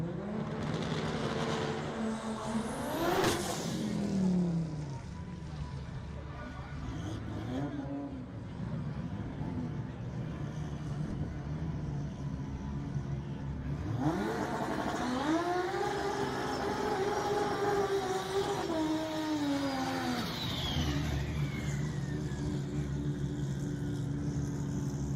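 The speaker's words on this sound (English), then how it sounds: "Now we can do the burnouts." Drag race cars at the Texas Motorplex during TX2K25 do burnouts in two long bursts of rising, screaming revs, loud over a constant crowd and track roar, with the engine note climbing and falling.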